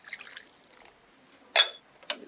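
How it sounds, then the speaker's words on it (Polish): Potatoes dropped into a pot of water in a home kitchen, giving two short, bright splashes, one stronger than the other, against near silence. "Umieść ziemniaki w garnku z wodą."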